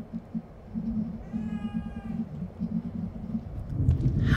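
A cat meows once indoors, a short rising cry close by, over a low droning hum and some rustling near the end.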